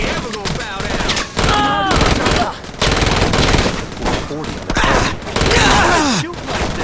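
Rapid automatic gunfire from the Saints Row video game crackles in dense, loud bursts with brief gaps, while voices call out over the shooting.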